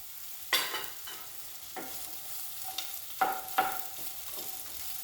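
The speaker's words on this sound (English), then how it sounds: "Till that time just you have to fry this" Okra (bhindi) fries in an open pan, giving a steady soft sizzle broken by several sharp clinks and scrapes of stirring, close by and with no speech.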